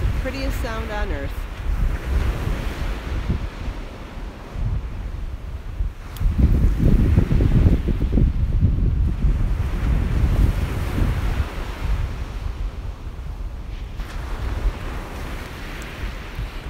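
Surf rolls onto the beach in broad, rushing swells, one surge building louder midway, with wind rumbling across the microphone and a voice talking briefly at the start.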